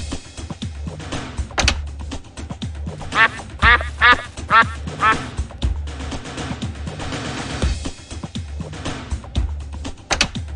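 Cartoonish duck quacks from a veterinary emergency video game, a run of loud quacks in the middle over busy game music and clicking effects, with a couple more at the start and end.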